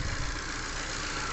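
A Ford EcoSport with an automatic transmission, suffering stalling and a fuel-control fault, idles steadily with a low, even engine hum and no talk.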